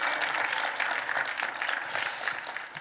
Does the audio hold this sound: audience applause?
yes